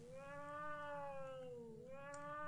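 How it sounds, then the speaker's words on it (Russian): A cat meows in the horror video game 1bitHeart, one drawn-out, clear, wavering cry that dips in pitch and rises again, heard alone. "Эй, кто кота мучает?"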